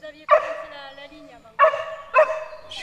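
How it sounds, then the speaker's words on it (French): A dog near a fishing spot barks three times in separate loud, close bursts, with a short pause after the first and a quicker pair at the end. "Oui, mais le chien, il s'en va pas."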